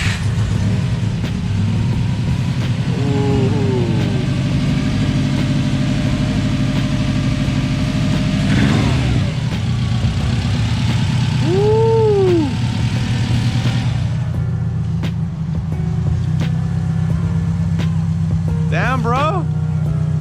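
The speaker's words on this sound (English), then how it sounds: "We're about to start the car." A Subaru engine that had been dead churns steadily at a low idle, a loud close rumble running throughout while people chatter and shout over it.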